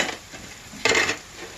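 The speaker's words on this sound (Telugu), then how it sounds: "ఆయిల్లో బాగా వేగాలి ఫ్రెండ్స్" Cabbage pakoda frying in oil, a soft sizzle broken by a short clatter of a spoon or ladle stirring in the pan, then fading back to gentle frying.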